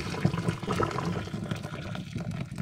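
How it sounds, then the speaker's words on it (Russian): Boiling water from a kettle is poured into a kitchen sink drain after a spoonful of drain cleaner, giving a steady close splashing and gurgling rush that runs throughout without talk. "и заливаем кипятком"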